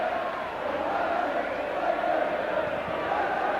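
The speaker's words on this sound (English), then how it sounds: "the crowd really getting behind them" A football crowd roars at Old Trafford during a 1990 Manchester United European Cup Winners' Cup match against Pécsi Mecsek, a dense sustained cheer filling the whole moment with a faint commentary voice beneath.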